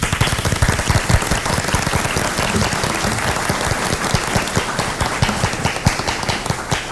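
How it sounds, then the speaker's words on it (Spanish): Office employees applaud on cue, a loud, dense burst of close hand clapping with sharp, rapid individual claps that carries on steadily without a break. "Aplaudan empleados."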